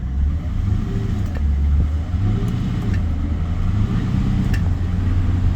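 A car engine with transmission trouble that acts low on fluid revs hard in a steady, loud, droning rumble as the car creeps forward, with no talking.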